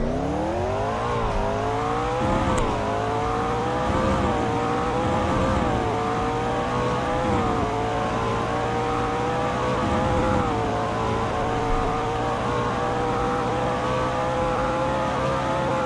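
A Toxic Evel supercar in a video game pulls away at full throttle with launch control, a loud close engine drone rising in pitch through several upshifts, steady and unbroken with no talking.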